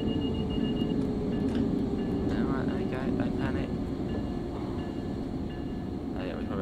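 An ALP46 electric locomotive runs the NEC New York to Trenton line in Train Sim World 4, giving a steady rumbling drone with faint rail noise as someone talks over it throughout.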